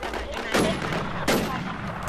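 Two loud gunshot bursts ring out about a second apart over a constant noisy background, with the crack of gunfire in the game Infestation.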